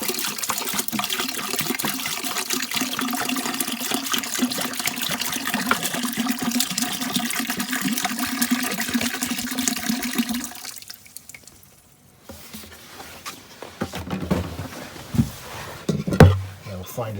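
Water poured steadily into a boat's holding tank, a gallon going in as a continuous gurgling rush for about ten seconds, then a pause and some softer splashes and clunks, close by.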